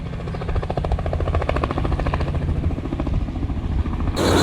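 A helicopter's rotor chops in a fast, rhythmic low thumping, steady and close throughout, ending with a brief burst of broadband noise.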